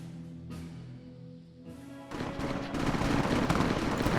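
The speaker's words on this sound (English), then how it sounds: "I hear there's gunfire over here." Gunfire erupts in the video game Fallout: New Vegas with the New California overhaul mod, starting after a quieter stretch with a low hum, then building into dense, loud bursts of shots that carry through to the end.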